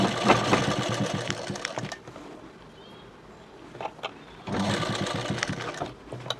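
A sewing machine stitches piping for a prince-cut blouse, its rapid mechanical whirr running steadily, pausing briefly in the middle, then resuming at full pace before tapering off.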